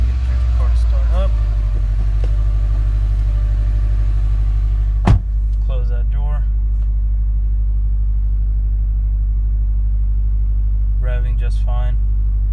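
A 2016 Subaru WRX with manual transmission: a steady low engine rumble dominates throughout, with a sharp transient partway through as the engine catches, then a continuous idle while someone talks intermittently.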